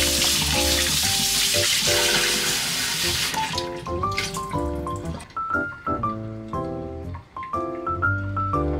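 Tap water runs in a sink while lean pork eye meat is rinsed clean for soup, a steady splashing hiss that fades out partway as soft music carries on, no speech.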